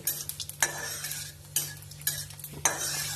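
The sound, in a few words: cumin seeds tempering in hot oil, being stirred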